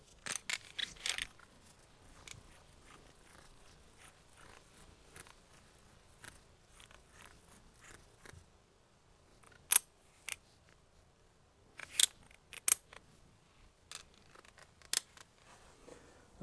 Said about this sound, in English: I'm going to adjust my 3/8 torque wrench.